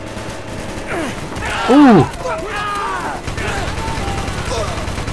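Gunshots from the video game Call of Duty: Black Ops ring out amid game voices and a sharp exclamation, the firing moderately loud and intermittent under the talk.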